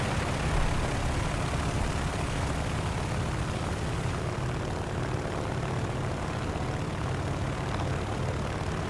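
Fixed-wing warplane engine droning steadily in a War Thunder battle, a continuous broad roar that holds loud throughout with no break, no voices over it.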